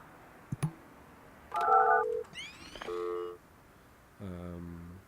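A telephone rings in the building-management video game Project Highrise, heard as a few short, clear electronic tone bursts and chirps separated by brief pauses over a faint background.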